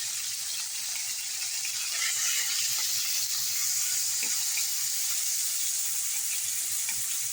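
Pork frying and splattering in a pan for ginisa while being stirred, a loud continuous close sizzle with crackling spatters and faint stirring scrapes.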